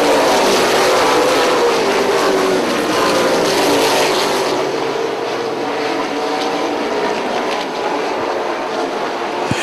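Late model race cars roar around a dirt track in a loud, continuous engine drone that swells and fades slightly as the field passes, with no voices heard.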